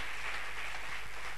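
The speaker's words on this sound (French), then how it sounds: "Acclame Jésus" Congregation applauding at a church revival service, a steady wash of clapping from many hands filling the room throughout.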